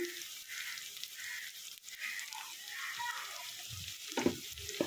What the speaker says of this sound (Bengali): তেলগুলো বেশি গরম ছিল সেজন্য সাথে সাথে ভাজা হয়ে যাচ্ছে